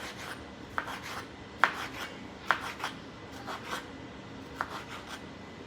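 Knife dicing taco ingredients on a cutting board, with a series of light, irregular chops and scraping taps at a quiet, close level and no speech.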